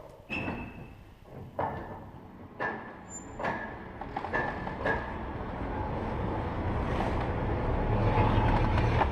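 A small underground mail train in London starts off with a series of clanks and knocks, then settles into a steady, rising rumble as it runs along.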